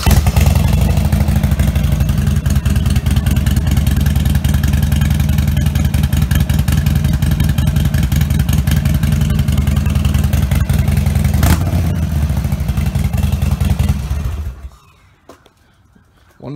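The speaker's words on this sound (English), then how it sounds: "Now here is a start up when it's warm. I'll start it and idle it a little bit." A Harley-Davidson Sportster 1200 motorcycle with a Vance & Hines 2-into-1 exhaust, warm, runs loud and close, a steady rumbling idle with a rough, pulsing beat, then shuts off abruptly near the end.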